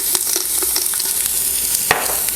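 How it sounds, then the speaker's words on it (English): Beef searing in an Instant Pot after being seasoned with salt and black pepper gives a loud, close, continuous sizzle, with occasional scrapes and taps from a utensil and no talking. "While the beef is searing"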